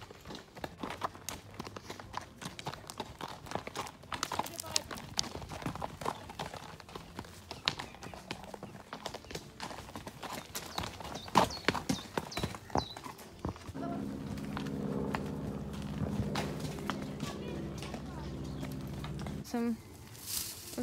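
Horse hooves clip-clop in a steady walking rhythm, close by, across a long stretch, with someone talking at times and a few birds in the background.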